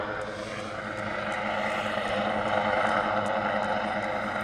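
A rescue helicopter flies overhead at night near Beachy Head, its steady rotor and engine drone continuous and moderately distant, mixed with wind noise and no speech.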